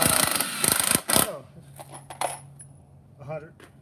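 Metal screws clatter and jingle sharply in a container for about a second, followed by a few scattered, quieter clinks and faint voices in a workshop.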